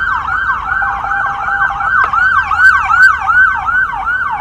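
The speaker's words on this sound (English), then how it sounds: "There's an ambulance." An ambulance siren wails loud and close on a Los Angeles street at night, its rising and falling tone cycling rapidly over a low hum of road traffic, with no talk.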